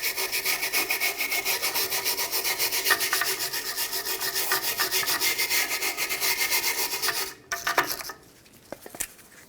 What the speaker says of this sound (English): I'm just trying to get off some of this scaly rust so that the shoes can sit on a flat surface